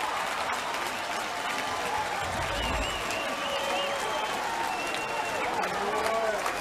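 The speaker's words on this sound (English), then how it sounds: "Got a standing ovation from the Orioles crowd, too." A baseball crowd at an Orioles game in Baltimore gives a standing ovation, a steady dense roar of cheering and applause that stays loud and unbroken throughout, with a few whistles riding on top.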